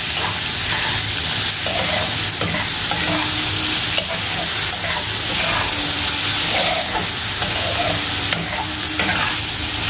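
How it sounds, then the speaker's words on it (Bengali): Turmeric and other ingredients fry in a pan with a loud, dense, unbroken sizzle heard up close, with faint stirring sounds underneath and no speech. "হলুদটা দিয়ে দেবো, দিয়ে ভালো মতো ফ্রাই করে নেবো।"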